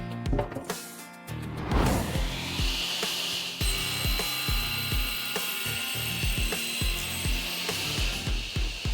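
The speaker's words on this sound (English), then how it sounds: "we are ready to put it on the saw so we can get rid of the edges and get to the exact dimensions that we need" A power saw trims the edges of a glued wood panel, giving a sustained high whine with repeated cutting bursts and knocks, loud and close throughout.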